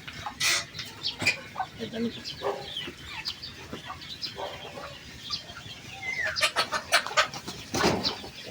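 Chickens in a gamecock farm's cages cluck in scattered, fairly faint bursts under quiet background activity, with occasional brief voices nearby.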